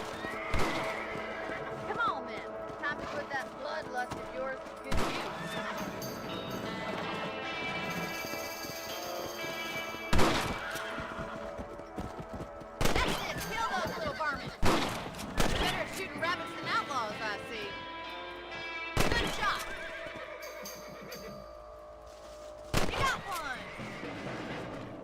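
Horses neigh and whinny repeatedly in the Red Dead Redemption video game, with clip-clopping hooves and occasional gunshot bursts, close and loud amid game sounds and voices talking.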